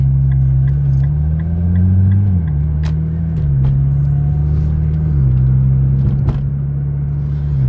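A car cruising along a road near Lake Tahoe, easing off for a stop sign. Its engine makes a loud, steady close rumble, and the pitch steps down slightly as it slows.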